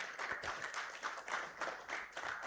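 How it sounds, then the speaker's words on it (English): An audience applauds at an investor and stakeholder roundtable in Nakuru, steady clapping rolling in soft waves, heard from a moderate distance with no voices over it. "A round of applause to her as she comes"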